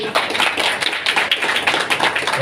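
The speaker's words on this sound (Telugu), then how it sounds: "గట్టిగా చప్పట్లు కొట్టండి" An audience claps loudly at a film anniversary function, a dense, continuous burst of many hands close by, with no voices heard.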